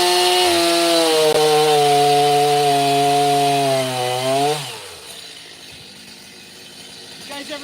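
Chainsaw biting into hard madrone (arbutus) wood: a loud, steady engine whine under load that drops in pitch and cuts off partway through, leaving quiet handling sounds.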